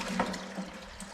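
Water runs from a faucet to fill a container for homemade lemonade, a brief, soft, steady splashing stream heard close by.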